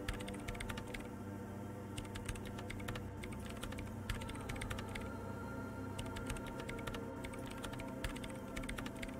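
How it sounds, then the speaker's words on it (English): Rapid computer keyboard typing from the video game Disco Elysium, a dense, steady stream of clicks over a constant low machine hum, with no voices. "Her hands typing hundreds of commands into the machine"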